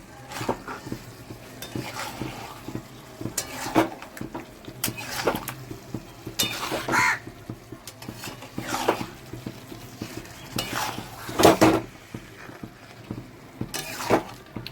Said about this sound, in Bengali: মটনটাকে ভালো করে এখন কষাতে হবে।